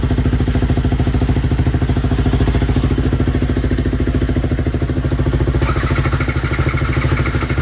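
Yamaha R15 V3 motorcycle with a modified stock exhaust runs steadily close by, a loud, rapid, even engine pulse throughout with a rattly edge.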